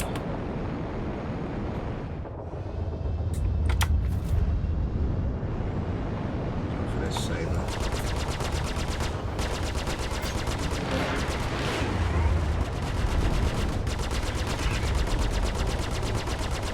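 Ship weapons firing in the space game Star Citizen around an M50 fighter, with rapid bursts of machine-gun-like fire repeating through a continuous engine rumble and someone talking over it.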